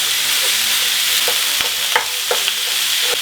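Ground beef frying in a hot pan with duck fat, a loud steady sizzle punctuated by a few sharp spatula taps and scrapes as the meat is broken up.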